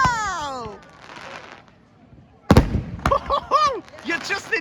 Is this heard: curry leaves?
no